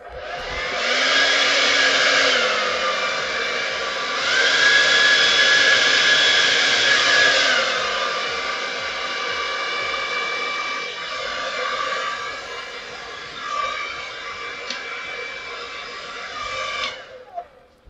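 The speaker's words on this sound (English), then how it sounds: "I had my hairdryer on high" A hair dryer on high blows loudly and continuously at close range over paint, its whine shifting slightly in pitch twice before it cuts off.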